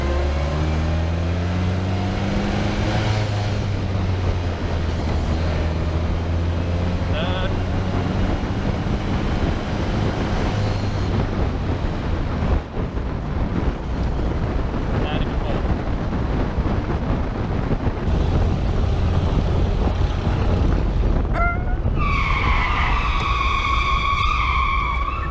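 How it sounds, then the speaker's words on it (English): A Fiat 501 car accelerating at full throttle, its engine droning and climbing steadily through the gears over about twenty-five seconds, with wind buffeting and a short whistle-like tone near the end. "acceleration test, here we go."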